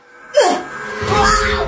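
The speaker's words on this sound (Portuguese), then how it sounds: "Parece ser o grito da minha mãe!" A woman lets out a loud, sudden wailing scream that swells, dips and rises again in a second wavering cry, close and alone.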